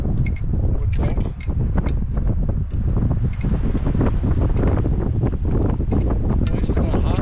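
Strong outdoor wind buffeting the microphone beside a mini excavator, a loud continuous rumbling roar with gusty rustle and no clear talk.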